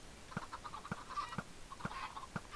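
Quiet, steady clucking of video game chickens, short repeated clucks in a loose rhythm with faint background noise, no talking.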